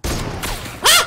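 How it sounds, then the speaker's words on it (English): Explosions rip through a Fortnite live event as a gas station is destroyed: a short, dense burst of blasts and crashing debris, with a sharper, brighter impact near the end. "There is so much blowing up. Oh my god, the whole gas station just got destroyed."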